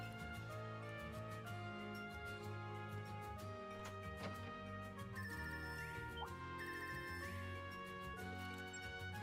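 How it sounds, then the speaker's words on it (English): A game phone ringtone in a Trails title chimes in a bright repeating melodic pattern over steady background music, loud and continuous, with no talk. "it sounds different from the normal ringtone"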